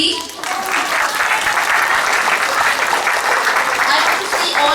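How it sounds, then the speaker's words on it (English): Applause from a school assembly audience fills the hall, steady clapping from many children that rises quickly and holds loud and dense throughout. "I can call a big round of applause for class UKGB"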